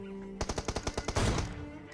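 Rapid automatic gunfire in a multiplayer shooter match, about ten sharp evenly spaced shots in a quick burst ending in a heavier blast, loud and close with no talk over it.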